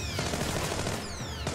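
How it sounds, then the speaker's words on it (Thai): Rapid gunfire in the video game Splinter Cell: Blacklist, a dense burst of automatic shots with whizzing ricochet-like streaks, loud and continuous through the short stretch. "ยิงอะไรเนี่ยฮะ"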